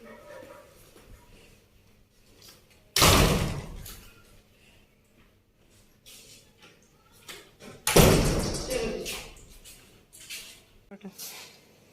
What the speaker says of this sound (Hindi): दरवाजे हम ऐसे बंद कर देते हैं